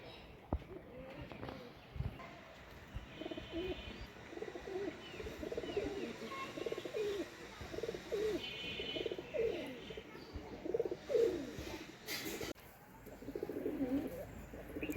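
Domestic pigeons at a village coop keep up a low, throaty cooing in repeated rolling phrases, fairly close and moderately loud, with faint rustling and occasional knocks around them.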